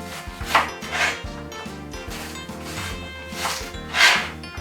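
A knife chopping a large onion into cubes on a board: a few rhythmic knife strokes, close and fairly loud, over a low background hum.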